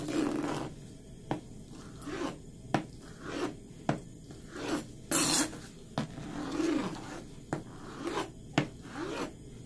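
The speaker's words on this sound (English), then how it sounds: "this I'm just gonna cut into like kind of bite-sized pieces." A knife cuts lobster tail into bite-sized pieces on a board, giving repeated sharp chops and scraping strokes spaced a second or so apart, close and fairly loud.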